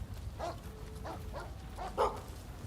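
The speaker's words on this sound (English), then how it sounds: "It's the fucking dog in game." Dog barks from the video game Rise of the Ronin, several short yelps spread across a couple of seconds, the last one louder, over steady in-game background noise.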